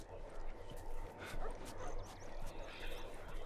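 A dog barks sporadically in The Last of Us Remastered on PS4, short yips and barks mixed into murky game ambience while someone talks over the scene.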